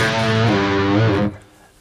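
Electric guitar played through a Boss Katana amp dialed to a brown distortion tone, a loud sustained saturated chord ringing thickly before being cut off, leaving a faint decaying tail.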